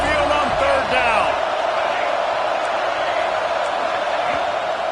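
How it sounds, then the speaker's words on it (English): A large home crowd for LSU v Alabama roars on third down on Saban Field. The noise is a loud, sustained wash that holds steady throughout, with brief whoops and a commentator's voice near the start. "The Tide crowd rolling noise down onto Saban Field on third down."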